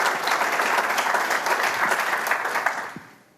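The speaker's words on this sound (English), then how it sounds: "a round of applause for our panelists" An audience at a panel on the business of St. Louis professional sports breaks into loud, sustained applause for the panelists, dense clapping that tapers off near the end.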